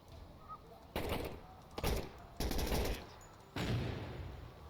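Bursts of gunfire from the tactical shooter video game Door Kickers 2, four separate loud volleys of rapid shots, each lasting under a second, over a quiet background.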